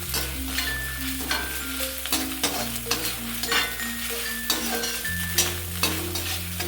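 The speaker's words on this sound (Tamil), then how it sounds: "இந்த மிளகா போட்டு வறுக்கிறோம் இல்லைங்களா, அதோடய இந்த உப்பும் சேர்த்து வறுத்து விட்டுருலாங்க." Red chillies and salt dry-roasting in a pan while idli podi is made, with repeated scraping and stirring strokes at a steady rhythm, close and clear over soft background music.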